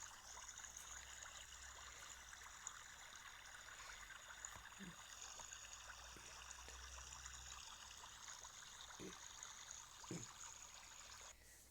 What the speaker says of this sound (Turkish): Su sesi rahatlatıcı ses.